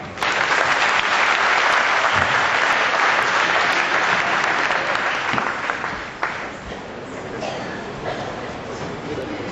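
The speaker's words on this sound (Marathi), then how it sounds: "टाळ्या वाजवा" A large audience claps loudly and steadily at a community conference gathering in Roha, a dense sustained wash of hands that eases slightly toward the end.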